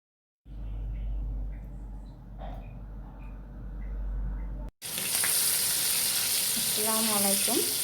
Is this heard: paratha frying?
yes